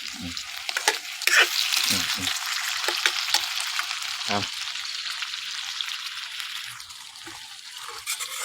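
Pad kra pao stir-frying in oil in a pan, a steady close sizzle with repeated scraping and clanking of a utensil stirring, continuing throughout.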